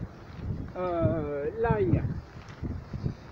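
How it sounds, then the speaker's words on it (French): Wind gusts across a February vegetable garden where garlic rows are planted, a rough broadband rush buffeting the microphone under a man's speech. "il y a du vent"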